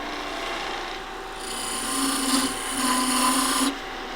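Hand sanding a wooden box, a close rasping rub in two longer strokes that swell and fade, fairly loud with no voices.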